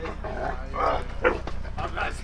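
A Staffordshire terrier that has broken through a fence barks a few times outdoors, mixed with people talking nearby.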